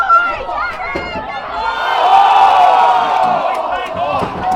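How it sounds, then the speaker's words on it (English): Crowd noise at a junior under-16 AFL football grand final, a steady loud roar of many voices that swells in the middle, with scattered shouts and thuds over the din. "Plenty of crowd noise."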